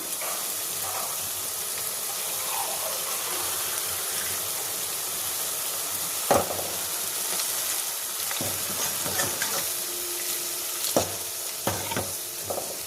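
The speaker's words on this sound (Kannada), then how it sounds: "ಇವಾಗ ಅದಕ್ಕೆ ಇನ್ನೊಂದು ಸ್ವಲ್ಪ ನೀರನ್ನ ಹಾಕ್ಕೊತೀನಿ" Milk saaru being stirred in a pan after more water is poured in, a continuous bubbling sizzle with occasional spoon scrapes and knocks against the pan.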